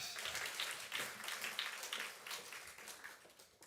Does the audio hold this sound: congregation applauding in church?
yes